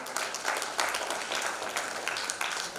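An audience at a government digital-services conference applauds the moderator, a soft, fairly distant, steady patter of clapping lasting the whole moment.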